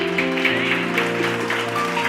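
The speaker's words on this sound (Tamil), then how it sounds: "கைத்தட்டு ஒருத்தவருக்கு" Audience clapping at a church gathering, a dense continuous wash of applause lasting the full two seconds over a steady low musical drone, moderately loud and fairly close.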